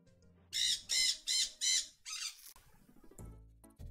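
A pet bird squawks four loud, harsh calls in quick, even succession, followed by a softer fifth cry and some faint rustling, close to the microphone with no talking.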